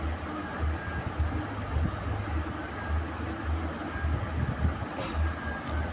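A train rumbles at Ramagundam railway station, a steady low drone with a faint rhythmic throb that holds for the whole stretch at moderate distance, with no talking.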